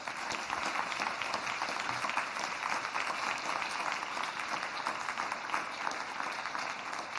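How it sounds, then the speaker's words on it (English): Steady applause from a symposium audience after a panel on ALS research, a dense, even wash of clapping from a moderately sized crowd heard at a distance without talk. "let's give them a round of applause"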